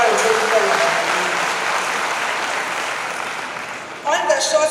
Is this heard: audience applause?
yes